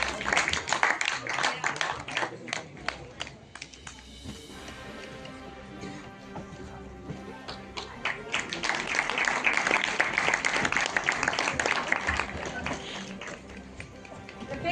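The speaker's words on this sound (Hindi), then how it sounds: "एक और जोरदार तालियां" Audience clapping at an annual literary award ceremony in India, a steady dense patter that swells and fades across the span, with some voices and background murmur mixed in.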